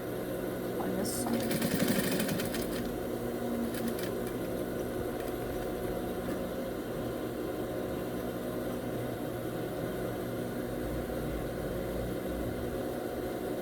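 A sewing machine runs steadily while topstitching a garment with a longer stitch, producing a continuous mechanical hum with faint rapid ticking throughout, under a louder burst near the start.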